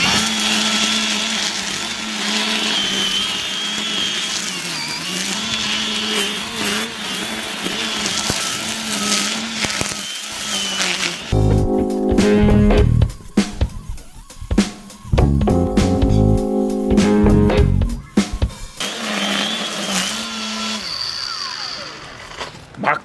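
An ES BC54S cordless brush cutter slicing through knee-high tall grass, its electric motor whining loudly and steadily, then bogging and surging in bursts as it is pushed into the thick growth, close up throughout.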